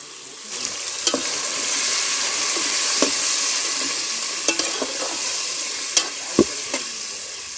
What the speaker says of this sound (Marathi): त्याच्यानंतर आम्ही बाजूची डाळ शिजत ठेवलेल्या त्या डाळीत आम्ही ही फोडणी टाकतलो